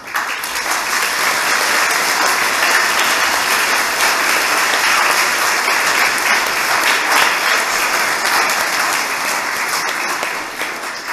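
Loud, sustained applause from a congregation filling a parish church during the welcoming of relics, dense clapping continuing for about ten seconds without a break.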